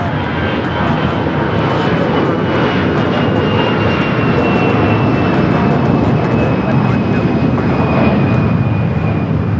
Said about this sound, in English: This is Delta Airlines 1024 taking off to San Antonio, Texas on the A319